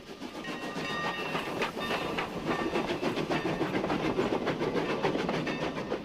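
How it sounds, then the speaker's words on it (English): A steam train on the Sierra Railroad, headed for Railtown 1897 in the California foothills near Sonora, rumbles past loud and close, with continuous rolling noise and rhythmic clickety-clack of wheels on rail joints. "The mournful wail of a steam locomotive whistle signals the passing of a train headed for Railtown"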